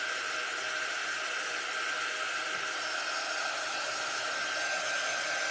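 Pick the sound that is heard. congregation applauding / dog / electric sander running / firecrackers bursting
electric sander running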